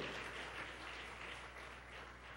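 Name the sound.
applause for the Lord in church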